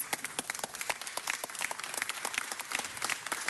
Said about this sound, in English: Can we all give her a big round of applause?